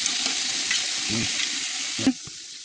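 Green chilies and tomatoes frying in a pan, a bright close sizzle with a few stirring scrapes and a sharp clatter near the end.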